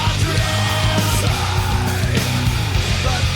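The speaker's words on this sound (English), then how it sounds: "And then all of a sudden, the introduction to screaming." Nu metal track with harsh screamed vocals over loud, dense distorted guitars and a driving drum beat, continuous and full throughout.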